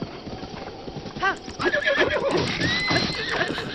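Galloping hoofbeats with a horse neighing loudly several times in The Legend of Zelda: Breath of the Wild, whinnies rising and falling over the clatter, close and busy, during a mounted battle.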